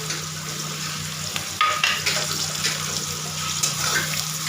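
Turmeric and Kashmiri chili powder are stirred into salted oil in a pan: a soft, continuous sizzle broken by a few scraping strokes of the spoon, close by, with no voices.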